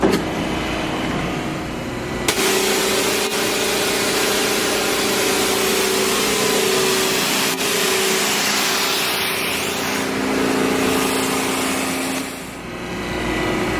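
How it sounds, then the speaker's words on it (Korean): An Italian Annovi HP200ART three-phase pressure washer motor starts up and runs with a steady, loud high-pitched whine and hiss, holding constant for over ten seconds before easing slightly near the end. "모터의 전원을 켜줍니다."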